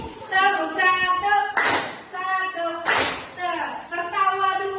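Children clap during an ice-breaking game in a classroom, single sharp group claps spaced between stretches of an adult voice giving rhythmic instructions, the speech dominating.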